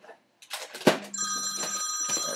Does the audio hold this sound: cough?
no